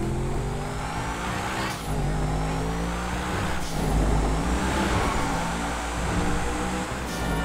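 Truffle Adder supercharged car in GTA Online revving and accelerating, with a steady loud engine roar, rising supercharger whine and harmonic sweeps that reset at gear changes, heard close without talk.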